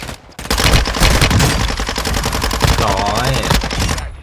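Rapid automatic gunfire from an MP5 submachine gun in Call of Duty Warzone 2.0, loud and close, rattling in a dense continuous burst for several seconds before cutting off.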